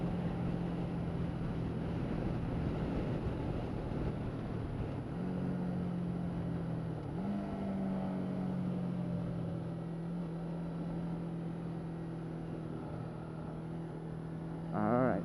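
A vehicle's engine pulling hard in second gear, a loud steady drone that climbs in pitch as it revs up, with one brief shift-like break partway through and the tone holding high to the end.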